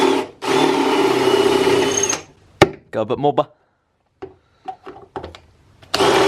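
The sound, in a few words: power drill drilling out rivets on metal tags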